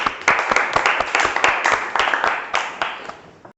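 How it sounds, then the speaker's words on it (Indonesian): A classroom group claps for a student group during a teaching practice session, a fairly loud, close burst of uneven hand claps that thins out and stops near the end. "Berikan tepuk tangan untuk kelompok 1."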